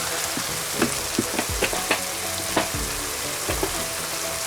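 Sheep tripe frying in hot oil in a pan, a loud close sizzle with intermittent knocks and scrapes of stirring throughout.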